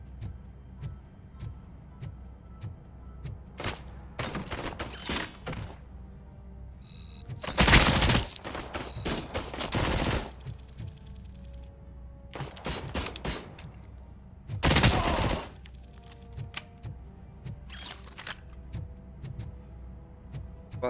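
Bursts of rapid automatic submachine gun fire in the game RoboCop Remastered, several short volleys separated by pauses, loud and close, with sharp clicks in between.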